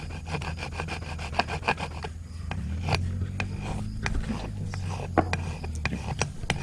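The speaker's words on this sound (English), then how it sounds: "Right now we saw a little bit of a burr on the corner. We're just taking a file and take that burr off." Hand file scraping a burr off a corner during a 2008 Polaris RZR 800 engine rebuild, a rapid series of close, gritty rasping strokes over a steady low workshop rumble.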